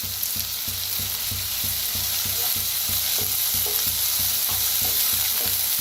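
Curry leaves crackle and sizzle in hot oil during tempering with onion and tomato, a steady loud frying hiss with regular soft stirring knocks throughout.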